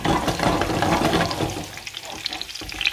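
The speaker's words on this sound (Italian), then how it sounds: "iniziamo a friggere i nostri peperoni" Bell peppers for a Sicilian aubergine caponata hiss and crackle in hot frying oil, loud at first and then thinning to scattered sizzling pops.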